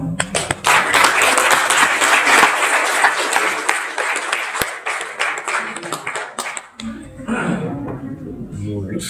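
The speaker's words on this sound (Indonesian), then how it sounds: "Tepuk tangan yang meriah sekali lagi" Audience at a hotel resort competition applauding after a Balinese dharma talk, sustained dense clapping that thins out and stops, followed by a voice speaking.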